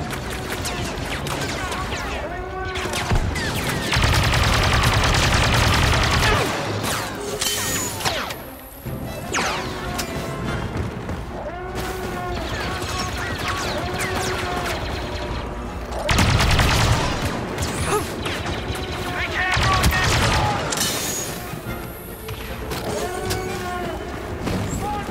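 Video game combat with dense gunfire, machine-gun bursts and booming explosions from detonators blowing up a hangar, loud and continuous with heavy blasts recurring throughout.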